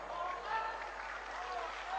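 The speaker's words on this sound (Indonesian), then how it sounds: "Tepuk tangan melulu." Faint crowd applause at an Islamic sermon, a soft continuous patter of many hands heard from a distance with a little voice mixed in.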